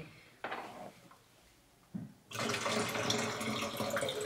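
Used liquid fixer is poured out of a photo developing tray. A couple of brief knocks and splashes come first, then a steady, close gush of liquid runs to the end, with no talking.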